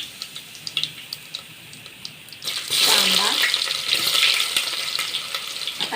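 Mustard seeds dropped into hot oil for sambar break into a loud, steady crackling sizzle partway through, after quieter faint clatter at the start, close by with no speech.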